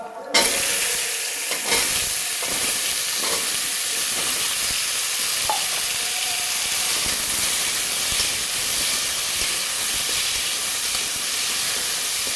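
Pumpkin pieces sizzle steadily in hot oil with bay leaf, dried red chilli and five-spice seeds, a loud, continuous frying hiss lasting throughout after a brief quiet start, with occasional stirring scrapes.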